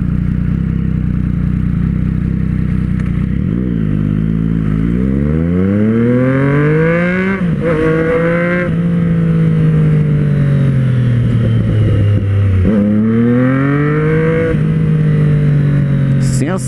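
A motorcycle engine with a loud, throaty sport exhaust revs up and down several times, pitch climbing and falling in sweeping bursts, close by.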